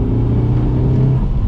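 Engine of a Mitsubishi Evo 6 RS rally car, a loud close rumble rising and holding in a brief rev, steady and gruff throughout with no talking.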